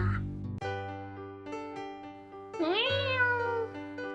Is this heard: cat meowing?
yes